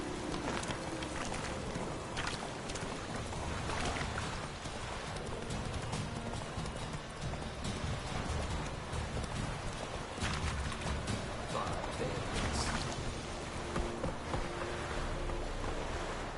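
A horse gallops in The Witcher 3, its rapid hoofbeats drumming steadily and densely under a wash of rushing noise that keeps going the whole time.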